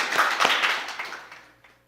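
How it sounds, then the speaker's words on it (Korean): A church congregation gives a short burst of applause in a Korean Sunday worship service, clapping loudly at first and then fading quickly within two seconds. "우리 박수 한번 큰 동료 보내주시면 감사하겠습니다"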